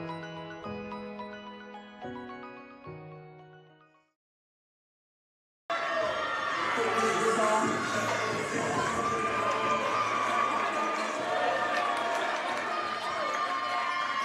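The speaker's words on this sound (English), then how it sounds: "So the crowd rising to the occasion with this team right now." A basketball crowd cheers loudly in Memorial Gymnasium during a Division III men's game, TLU against St. Thomas; a steady roar of voices and shouts fills the gym after a short musical tone fades into silence.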